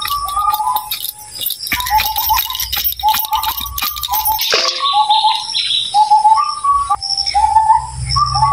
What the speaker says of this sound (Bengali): এই ডাকটি শুধু সকালবেলায় শুনুন যায়। সকালের সুন্দর ডাকটি ভালাই লাগে।